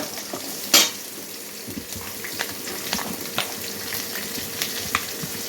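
Sliced onions and green chillies fry in a pan with fennel seeds and curry leaves, giving a steady close sizzle broken by light stirring scrapes and small clinks.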